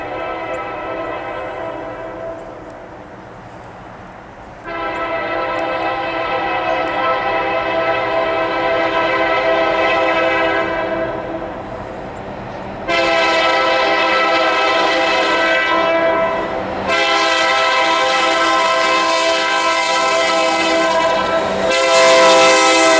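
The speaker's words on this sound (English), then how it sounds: "And coming northbound will be NS-118." Northbound Norfolk Southern NS 118 manifest freight train, led by SD70 locomotives, sounds its horn in long loud blasts repeated several times, close and strong, over rumbling rail noise.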